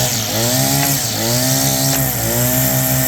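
A Redmax BCS260 gas string trimmer runs at high revs, its engine whining steadily with a slight rising and falling pitch, loud and close.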